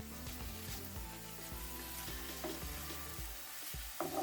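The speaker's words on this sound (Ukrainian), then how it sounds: "Смажити треба до золотистої скоринки." Steady sizzling of onions and mushrooms frying in oil in a pan, with occasional stirring scrapes and a brief clatter near the end.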